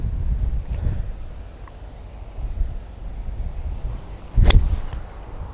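Strong wind gusting across open ground at around 40 km/h, buffeting the microphone as a low rumbling roar, with a sharp gust burst near the end and no talking.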